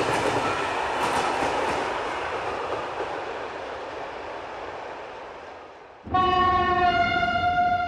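A passenger train between Labytnangi and Kotlas rumbles steadily along the rails with soft rhythmic clatter fading gradually, then a loud sustained train horn blares abruptly near the end.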